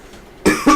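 Two quick coughs close together after a brief quiet stretch, loud and near.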